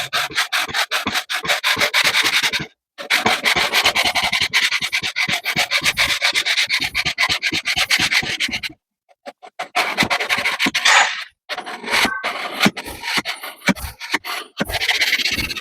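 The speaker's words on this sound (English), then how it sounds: "go ahead and smear this on a little better with my fingers than that Q-tip" Fingers smearing compound over a surface, close scratchy rubbing strokes in several bursts broken by brief pauses, loud and dry in texture.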